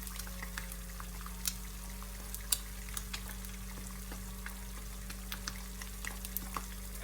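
Eggs fry in a pan with a steady low sizzle, dotted with small crackles and pops and an occasional sharper tick as a utensil touches the pan.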